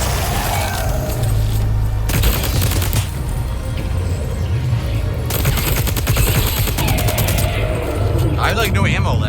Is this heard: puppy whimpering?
no